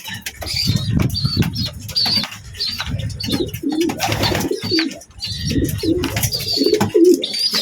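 Young pigeon chicks peck, flap their wings and coo in a loft, with a steady mix of soft cooing, rustling wing flaps and small chirps close by throughout.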